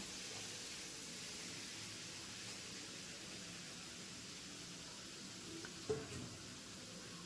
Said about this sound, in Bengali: পটলটা দিয়ে দিলাম কড়াইতে পটলটা লাল লাল করে ভেজে নামাবো